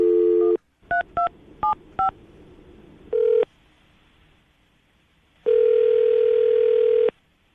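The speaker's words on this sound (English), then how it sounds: "I'm going to dial her phone number right now, okay?" A phone number being dialed with DTMF keypad tones: a steady dial tone, then a quick run of short beeps, a pause, another beep, and a final long sustained tone, all close and clear with no talk.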